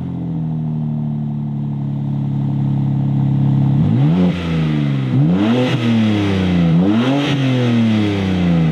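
A BMW M4 Competition with a 3-litre twin-turbo straight-six and four large exhaust tips idles steadily, then blips through three or four sharp, loud revs that rise and fall in quick succession, heard close with no talking.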